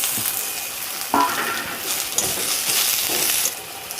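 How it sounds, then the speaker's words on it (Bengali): Boiled potatoes tossed into fried onions in a hot pan, crackling sizzle with scraping stir strokes and a few sharp utensil knocks, close and continuous without speech. "দেখো এই যে পেঁয়াজটাকে ভালো করে একটু লাল লাল করে ভেজে নিয়েছি এবারে আমি সিদ্ধ করা রাখা আলুটাকে দিয়ে দেবো"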